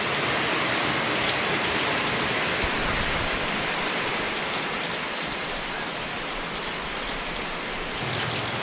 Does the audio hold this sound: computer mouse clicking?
no